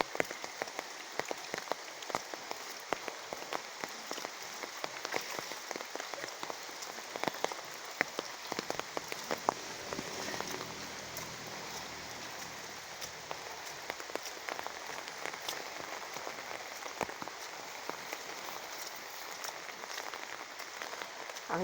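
Steady rain falls on a garden, a dense, even hiss with scattered drops pattering on surfaces, continuous and unbroken for the whole stretch with no voices.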